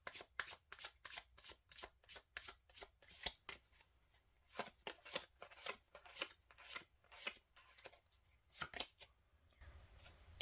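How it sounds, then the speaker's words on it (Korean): Tarot cards being shuffled by hand, a close, quiet series of crisp riffling bursts in an uneven rhythm with short pauses between, and no talk over them. "그럼 4번님들 카드, 여기 보조 카드로 보고 같이 2장 또 뽑을게요"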